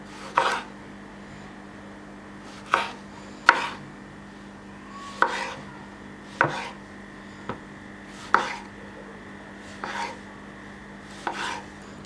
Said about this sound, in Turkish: Şimdi domateslerimizi doğrayacağım.